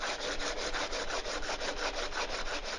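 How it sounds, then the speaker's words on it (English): Coarse 60 grit sandpaper worked over a bamboo bicycle frame, giving a steady run of loud, rhythmic back-and-forth scratching strokes with no voices. "So I'm using this 60 grit sandpaper, okay?"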